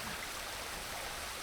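Rushing water in Ghost of Tsushima, a continuous dense roar of flowing water that holds steady and fairly loud throughout, with no voices.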